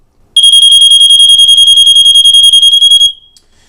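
A Gizmode water leak detector set on a damp rag sounds its alarm: a loud, piercing high-pitched electronic tone pulsing rapidly for about three seconds close up, then stopping abruptly, with no voices.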